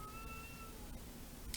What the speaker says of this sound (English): If you hear a cat meowing or howling, that's my kitten Vale.